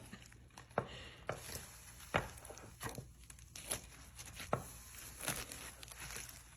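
A utensil cuts through a baked Doritos casserole with a croissant dough base, giving faint irregular crunchy crackles and soft taps against the pan. The sounds are quiet and scattered, and no voice is heard over them.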